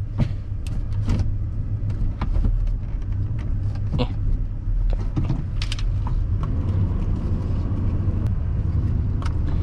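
A 1994 Dodge RAM 1500 Laramie SLT pickup with a four-speed automatic pulls out onto the road, its engine and road noise forming a steady low rumble from inside the cab, with a few brief clicks and knocks scattered through.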